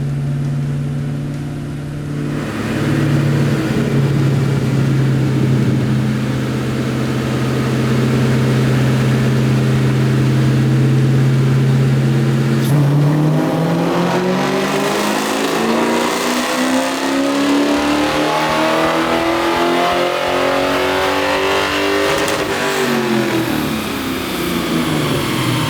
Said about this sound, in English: We bought it, it sat out in the warehouse, we're throwing it on the dyno.